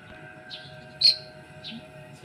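A few Asian pied starling chirps, one sharp clear call standing out among softer calls, over a quiet steady background hum.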